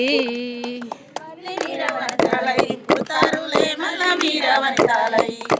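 A small crowd at a Telangana women's gathering bursts into loud, uneven hand clapping after a sung line, close and rhythmic with sharp individual claps, preceded by a brief sustained sung note.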